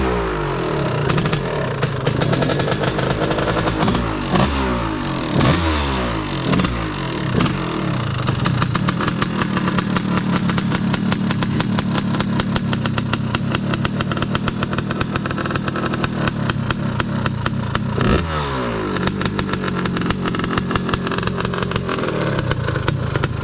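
A 1986 Honda TRX250R quad with an ESR363 stroker engine runs steadily and loud and close, its two-stroke note rising and falling through repeated revs and blips, alone with no talk.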